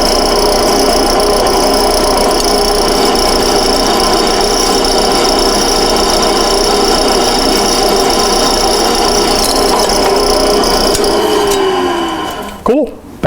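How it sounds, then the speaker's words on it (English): A drill press bores a hole through metal under light downward pressure, a loud steady whirring grind that holds constant before winding down abruptly near the end. "Let the drill do the cutting rather than force it."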